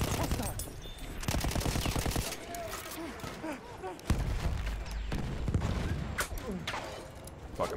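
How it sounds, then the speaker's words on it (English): Rapid gunfire and machine-gun bursts from a World War I battle in Battlefield 1 crackle almost nonstop at close and middle range, with a player talking over the shooting. "I'm being shot from behind"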